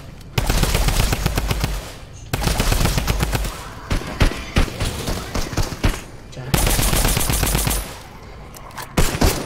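Rapid automatic drum gun fire from Fortnite, a loud, dense stream of shots in three long bursts separated by brief pauses, with short choppy bursts in between.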